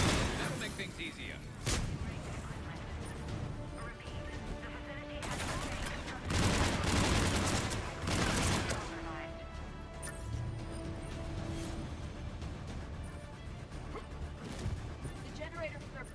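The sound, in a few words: turrets firing in video game Mass Effect 3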